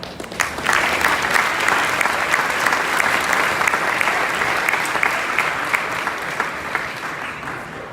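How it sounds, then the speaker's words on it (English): An audience at a business excellence awards ceremony applauds steadily, a dense, sustained round of clapping that fills the room for several seconds without letting up. "Nice round of applause, please."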